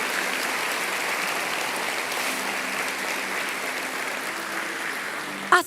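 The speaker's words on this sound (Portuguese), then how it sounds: "Pode aplaudir ao Senhor." A church congregation applauds in a long, even round of clapping that holds steady at moderate volume, ending with a brief louder thump near the close.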